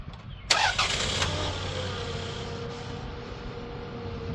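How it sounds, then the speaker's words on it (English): Dodge Grand Caravan V6 engine starting during a jump-start: a sharp crank catches quickly, then settles into a steady mid-pitched idle with no talking. "Start that car, and we'll see what happens."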